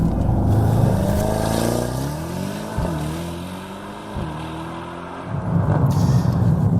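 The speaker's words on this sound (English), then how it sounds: "Now that was a race start, a selectable option that comes complete with this third generation model's new 9-speed AMG Speedshift MCT auto gearbox" Mercedes-AMG E63 4Matic+ 2017 with a 9-speed AMG Speedshift MCT gearbox launching hard in race start mode, engine rising loudly in pitch through quick successive upshifts, close and with no talk.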